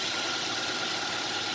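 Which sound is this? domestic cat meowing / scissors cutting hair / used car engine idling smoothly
used car engine idling smoothly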